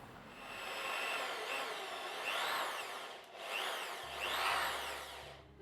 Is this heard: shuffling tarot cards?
no